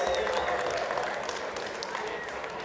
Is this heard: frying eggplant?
no